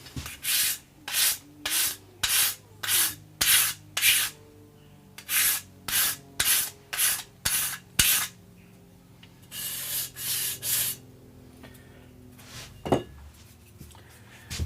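Hand sanding with 600 grit sandpaper during a baritone guitar build, a close series of quick rhythmic rasping strokes in bursts with short pauses, ending in a few scattered rubs and a light knock.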